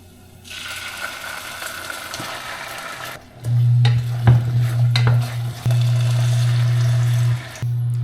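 Sardines and onion hitting a pan, quiet at first, then a sudden loud sizzle that swells and holds steady with brief stirring knocks and a short drop before resuming.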